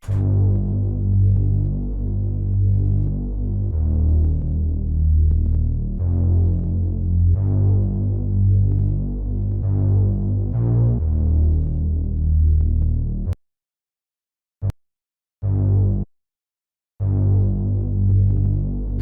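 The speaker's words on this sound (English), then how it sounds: "And then I just added a bass, play it out." A deep, throbbing bass line following the root notes pulses under a repeating electronic beat made in FL Studio, looping steadily and loudly before cutting out in a few abrupt silent gaps.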